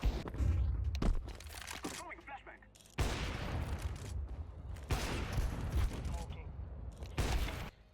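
Gunfire bursts in a multiplayer shooter game, several loud rapid volleys separated by short pauses, with talk underneath.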